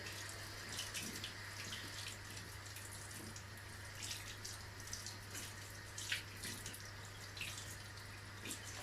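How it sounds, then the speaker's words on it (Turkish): Tap water runs steadily into a sink while bamboo plant roots are rinsed, a faint, even splashing stream with small irregular spatters and a low background hum, no voices. "Ben bunun köklerini de bir yıkıyorum."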